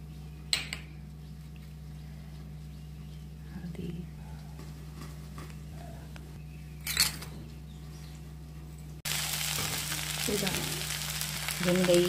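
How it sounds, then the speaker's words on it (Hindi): Beans, onion and potato sabzi stirred in a pan as it fries, with a few soft spatula scrapes over a low hum before a steady, close sizzle rises and holds to the end. "थोड़ा सब्जी चलाएंगे हम"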